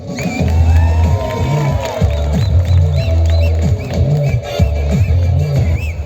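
A live comedy show audience bursts into loud, sustained cheering and whistling with rhythmic shouting, a large crowd filling the hall, close and energetic throughout.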